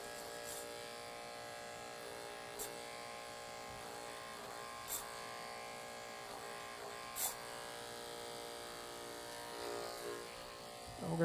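Hair clippers buzz steadily and close while tapering a men's undercut with a fade, a constant electric hum with a few faint clicks and bumps as the blade moves along the hairline.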